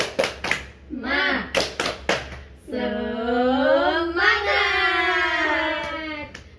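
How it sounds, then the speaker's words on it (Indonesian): A classroom group does the tepuk semangat clapping chant: a quick rhythmic run of sharp claps followed by a long, loud group shout of voices in unison, nearby and clear. "Tepuk semangat."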